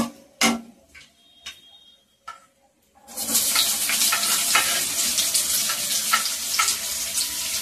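Onions frying in a pan with dried red chillies for almond upma: after a few faint clicks, a loud steady sizzle bursts in and continues close up with a few stirring scrapes, no talk.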